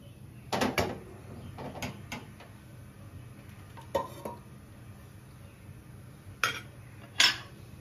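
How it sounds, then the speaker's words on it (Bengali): Saucepan set down on a stove in a kitchen, a few scattered metallic clunks and knocks over a low steady hum, with sharper clatters near the end. "এরপরে আমি সসপ্যানটা বসাচ্ছি"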